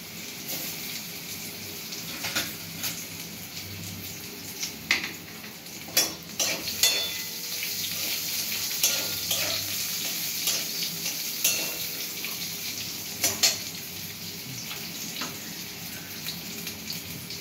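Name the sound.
cut mango pieces added to hot oil, frying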